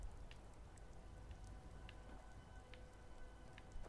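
Rain falling in Skyrim, a steady soft hiss of drops on surfaces with scattered brighter patters, constant and fairly quiet throughout with no talking.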